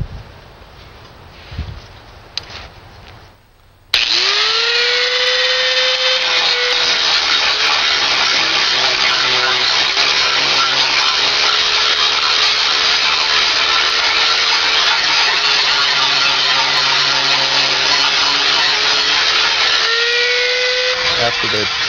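An electric grinder smooths a welded spot on a cast metal squirrel sculpture, spinning up after a few seconds of quieter sound and then whining loudly and steadily at close range, its pitch wavering as it bites into the metal.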